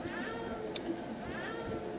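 A cat meows once, short and clear, in the video game Genocide Dolphins, rising above a busy, steady game ambience with low rumbling and murmuring background sound.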